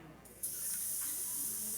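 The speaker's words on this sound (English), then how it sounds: "Do you hear that sizzle?" Swedish marinade hitting a hot pan, a sudden loud broadband sizzle bursting in after a brief quiet hiss and holding steady to the end.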